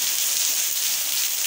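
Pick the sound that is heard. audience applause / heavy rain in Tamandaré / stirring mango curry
heavy rain in Tamandaré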